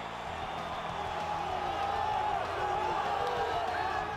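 Arena crowd in EA Sports UFC on Xbox One roars steadily throughout, a dense continuous cheer and murmur at moderate level with no distinct claps or voices standing out.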